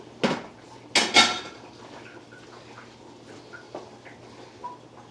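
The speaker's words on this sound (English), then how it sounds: "let's get this pan over here on the heat" A frying pan set down on a home stove, a few sharp metallic clanks near the start, followed by faint small knocks in a quiet kitchen.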